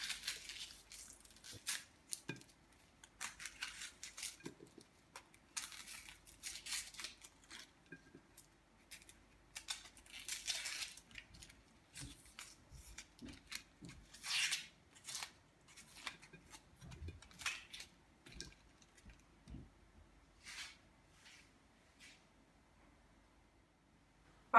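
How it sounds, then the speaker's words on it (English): A knife cuts through two onions on a plate in a series of crisp, quiet chops and slices, irregular and close, with no one talking. "to start off with, I'll be cutting my 2 onions."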